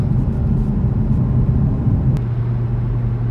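Cabin of a 2018 Audi RS3 on the move, filled with a steady, loud low engine drone and road rumble that holds constant throughout, with no talking.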